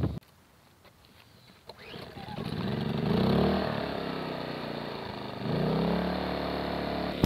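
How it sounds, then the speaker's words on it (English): Generator in an off-grid tiny house setup running steadily at one even pace, a continuous mid-pitched engine drone close by after a brief quieter start, with no talking. "So this generator struggles to start it up."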